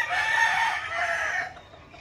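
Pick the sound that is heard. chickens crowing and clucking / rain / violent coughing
chickens crowing and clucking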